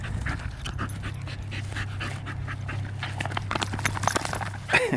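A dog pants rapidly and shuffles around close by after playing outside in the cold, with steady breathing and light movement sounds throughout.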